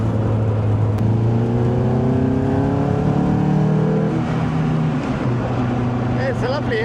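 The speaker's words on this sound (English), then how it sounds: "It's a lovely engine still." A Caterham 270 sports car engine revving strongly while driving on the road, loud and close, with rising and falling gear pulls and steady wind and road noise throughout.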